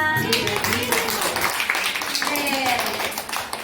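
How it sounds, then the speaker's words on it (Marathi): A group of children at a rural primary school claps for a pupil, a dense patter of small hands running continuously under overlapping talk. "याच्यासाठी टाळ्या वाजवा"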